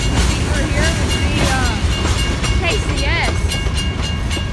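A BNSF grain train rolls past on the Kiamichi Railroad with a loud, steady rumble and wheel clatter that fills the whole stretch, while people talk over it.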